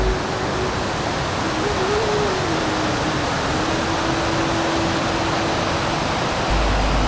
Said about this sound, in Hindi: सामने की ओर कितना सुंदर झरना दिख रहा है।